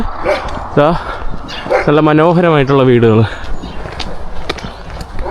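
Dogs bark in a Ukrainian village among small houses, with the barks mixed under someone talking nearby.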